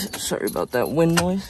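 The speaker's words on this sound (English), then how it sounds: "Gotta take the keys out" Car keys jangle briefly as they are pulled from the ignition of an S197 Ford Mustang, a quick close metallic jingle at the start, followed by someone talking over light wind.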